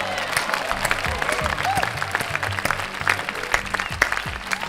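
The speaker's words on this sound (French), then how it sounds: "on peut vous applaudir." A French television game show studio audience claps steadily for about five seconds, a dense continuous applause over a low musical bed.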